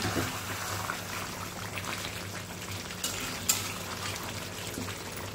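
Roasted chicken with crushed kasuri methi, for tapka chicken, is stirred in a hot pan, a steady close sizzle with light scraping of the spoon throughout.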